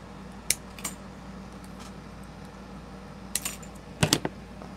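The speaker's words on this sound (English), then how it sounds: "now I'm going to cut this football off" Scissors snip a football decoration off a homecoming mum, a few sharp close clicks and cuts scattered across a quiet room, with a cluster of snips near the end.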